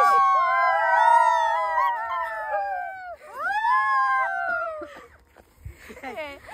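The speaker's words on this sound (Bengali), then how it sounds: "শিয়ালের কাশি হচ্ছে।" Jackals howl outdoors near flower fields, long rising and falling wails in overlapping chorus, loud and close, fading before a second burst and a few yelps.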